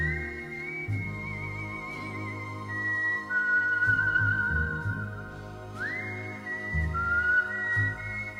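A mellow, jazzy instrumental sample with a whistled melody gliding over bass and soft accompaniment, steady and moderately loud throughout.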